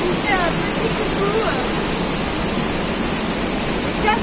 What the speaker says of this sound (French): Cascade de fond d'Espagne.